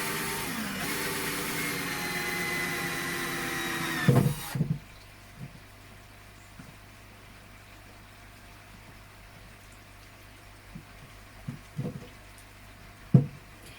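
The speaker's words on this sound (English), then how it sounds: "I'll drill the big hole from the inside." A power drill whines steadily for about four seconds while drilling a hole through plastic for a koi pond bog filter, then cuts off, followed by quiet background hum and a few scattered clunks.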